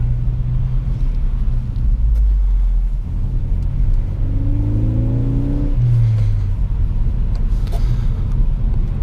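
A 2017 Ford Focus ST engine rumbles up close on a snowy road, revving and shifting as it accelerates, with steady road noise underneath and no talking.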